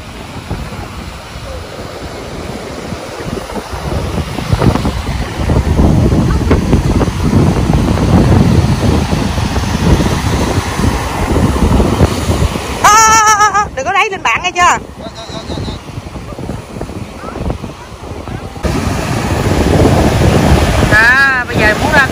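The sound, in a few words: waves and wind at the seashore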